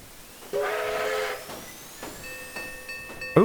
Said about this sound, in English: it has different whistle animations, but whistle noises